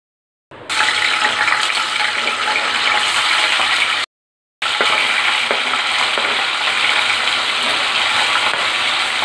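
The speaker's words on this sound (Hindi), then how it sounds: "ये देखिए हमारा पनीर एकदम अच्छे से तल चुका है" Paneer frying in hot oil, a steady loud sizzle close by, broken by a short silent gap before the crackling resumes.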